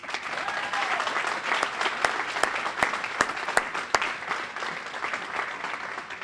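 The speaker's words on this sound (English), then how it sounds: "I think you deserve a big round of applause." An audience at an outdoor bridge announcement in Madison Park, Boston applauding steadily, dense clapping with a few sharp, louder claps standing out, fairly close.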